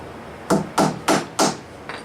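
Galvanized nails are hammered into plywood and a 4x4 for a garden box: four sharp, close wooden blows at an even, quick rhythm, then a lighter fifth tap trailing off.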